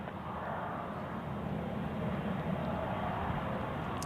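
A Lufthansa airliner bound for Frankfurt at Zurich Airport on a gusty crosswind day, its engines a steady, distant broadband roar that holds level throughout.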